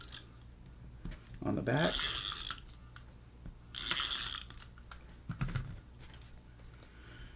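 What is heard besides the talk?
tape runner laying glue strips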